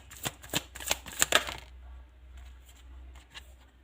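A tarot deck is shuffled by hand in a burst of quick, crisp card riffles and slaps, close and clear, before the sound drops away into near silence.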